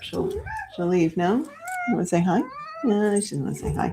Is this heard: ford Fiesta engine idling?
no